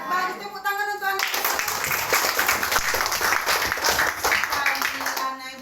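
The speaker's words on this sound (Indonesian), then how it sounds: "Tepuk tangan untuk anak." Sustained applause from a primary school class for a child, steady clapping that starts abruptly after a brief pause and continues loudly throughout.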